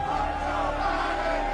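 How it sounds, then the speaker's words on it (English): A race crowd chanting in unison, a dense roar of many voices with a steady rhythmic tone, loud and continuous through the short moment. "as you can hear the chants from the crowd"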